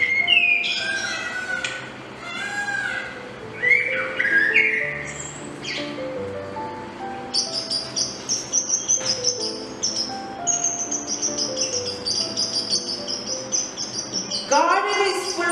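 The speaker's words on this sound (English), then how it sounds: "Birds are chirping." Birds chirp and tweet in repeated short calls on a Sunday morning, with a whistling, melodic song continuing through, mixed with other sounds and possible voices in the background.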